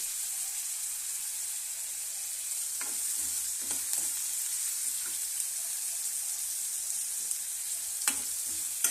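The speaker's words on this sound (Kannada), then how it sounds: "ಇದು ಪೇಸ್ಟ್ ಮಾಡ್ಕೊಂಡಿದ್ದೀನಿ ರೀ ಫ್ರೈ ಆಗ್ತಿದೆ ಈರುಳ್ಳಿ" Onion paste frying in a pan for a palak gravy, giving a steady soft hiss with scattered close scrapes and taps of stirring.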